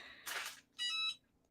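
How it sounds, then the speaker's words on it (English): A kitchen timer goes off with two short, faint electronic beeps in quick succession, heard alone in a quiet room. "my timer just went off now"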